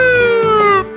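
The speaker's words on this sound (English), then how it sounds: "ambulance," An ambulance siren blares close and loud, a rich harmonic wail sliding slowly downward in pitch over about one second before cutting off.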